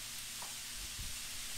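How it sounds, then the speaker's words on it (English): Butter sizzling steadily in a hot pan before garlic and onion go in, a soft continuous frying hiss with a brief stir near the end, no voices. "I'm going to put about a tablespoon of butter into the pan"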